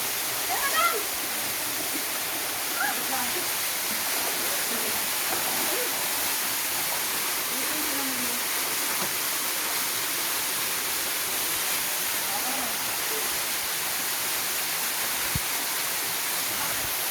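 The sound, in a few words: waterfall at a resort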